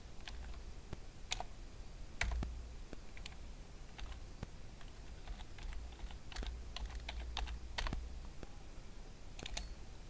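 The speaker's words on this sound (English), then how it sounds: "I'm typing one word, environment." Quiet, uneven typing on a computer keyboard, a scattering of light key clicks in short bursts over a faint low hum, with no voices.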